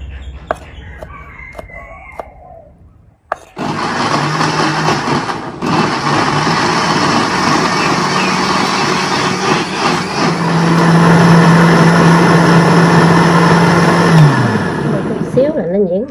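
An electric blender whirs loudly and continuously as it purées tomatoes into a smoothie, starting abruptly after a brief quiet spell, with a steady droning hum throughout and someone speaking over it near the start.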